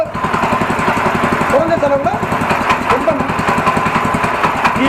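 Hand-held walking tractor engine running close by, a loud rapid chugging single-cylinder putter with an even rhythm while someone talks over it.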